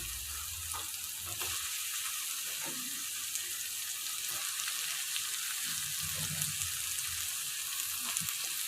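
Finely chopped cabbage fries in oil with a steady sizzle, punctuated by soft scraping as it is stirred and tossed in the pan.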